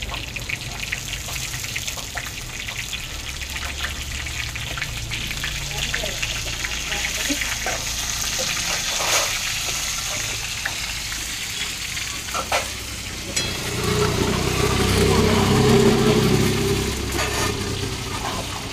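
Stuffed brinjals fry in a pan over a wood-fired stove, a steady close sizzle throughout that swells louder and fuller near the end as the pan is worked.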